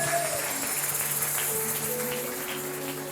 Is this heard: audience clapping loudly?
yes